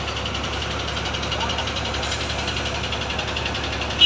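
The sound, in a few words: engine starting on crane lifting bridge girder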